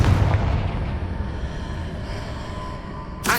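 Confringo spell blast in the Hogwarts Legacy video game, striking a pillar blocking the path: a single heavy booming explosion up front that rumbles and decays, followed by a brief sharp burst at the end.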